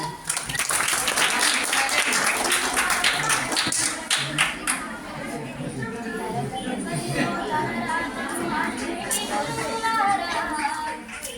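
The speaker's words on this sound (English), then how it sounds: "Please now clap, all of you, encourage her." Students at a college Teachers Day celebration clap to encourage a girl singer, a dense burst of applause that gradually thins into scattered rhythmic clapping and chatter over eleven seconds.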